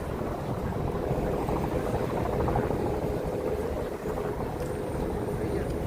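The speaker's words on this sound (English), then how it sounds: "Lots of helicopters flying around tonight." A steady, rumbling helicopter drone over downtown Toronto at night fills the air, constant and fairly loud, with a faint whine above the low throb.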